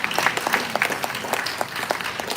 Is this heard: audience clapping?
yes